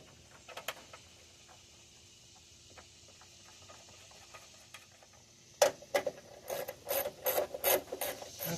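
A hand ratchet tightens bolts while installing an electric fan on a 2002 GMC Sierra 5.3, heard as a quick run of close, sharp clicking strokes after a quieter stretch of faint handling noise.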